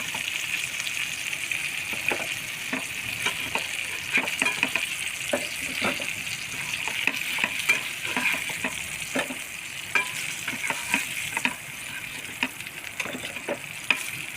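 Bangda (mackerel) fish frying in oil makes a constant hissing sizzle with scattered crackles and pops, close and steady throughout.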